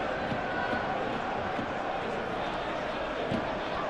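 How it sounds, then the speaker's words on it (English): A football stadium crowd in PES 21 during a Manchester City versus Bayer Leverkusen Champions League match keeps up a steady, dense roar and chant, continuous throughout with commentary talking over it. "The crowd are calling for this to be put to bed."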